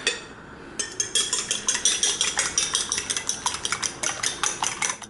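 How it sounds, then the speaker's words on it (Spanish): An egg beaten in a bowl with a fork or whisk for air-fryer torrijas, giving a quick steady run of light clinking strokes against the bowl, close and clear, with no one talking. "por aquí voy a ir batiendo un huevo"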